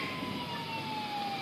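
A police siren wails in the distance, a long steady tone sliding slowly downward over a faint background rumble of traffic.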